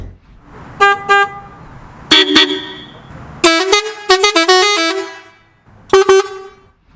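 Loud compressor-fed air horns on a Fiat Ducato van blast in short bursts, some in quick repeated toots and some as longer chords, close and piercing with pauses between.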